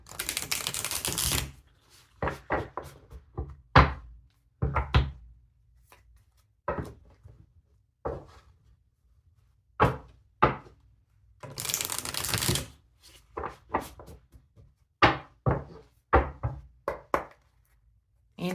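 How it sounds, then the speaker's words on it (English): Tarot cards are shuffled in repeated bursts, riffles alternating with sharp taps and knocks on a table, with quiet gaps between, close and fairly loud. "Feel free to fast forward through the shuffling"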